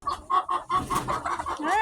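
Hens cluck inside a chicken coop, a close, loud run of rhythmic, repeated clucks that rise into a drawn-out squawk at the end.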